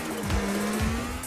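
A car races in a GTA 4 street race, with a steady engine drone and brief tire squeals that sweep twice across the short stretch of loud video game driving.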